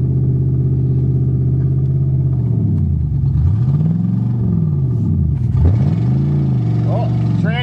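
Loud, steady engine rumble of a Mercury Marquis in motion, with revs rising and falling repeatedly as it drives on a slipping transmission low on fluid.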